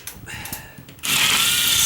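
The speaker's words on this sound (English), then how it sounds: "Get my next size drill bit, because I want to put these screws in" Power drill with a drill bit boring screw holes for mounting an exterior wall sconce light fixture: a short whir and pauses, then a loud, steady high-pitched drilling run close by.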